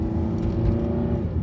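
A car engine revs under hard acceleration, a steady, loud low drone with a faint whir that holds for a moment and does not let up.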